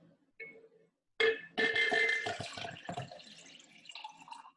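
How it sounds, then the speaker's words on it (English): Water poured from a container into a drinking glass until almost full, a steady splashing, gurgling stream that starts abruptly and runs for a few seconds, close up, with a few soft drips and a light thud before it begins. "grab 1 glass and pour the water until it's almost full"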